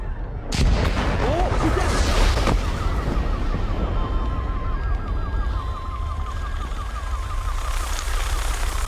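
Explosions and heavy blasts from bombs going off in a crime drama series, loud booming bursts early on followed by a wailing siren and rumbling chaos, with faint voices underneath.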